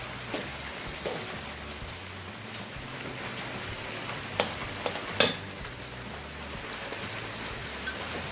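Shrimp stir-frying in a pan for fried rice, a soft continuous sizzle with scattered scrapes and a few sharper clacks of a utensil against the pan, fairly quiet and without talk.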